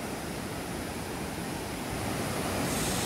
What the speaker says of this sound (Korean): 물이 상당히 많이 불어나서 강의 물소리가 아주 좋게 들립니다.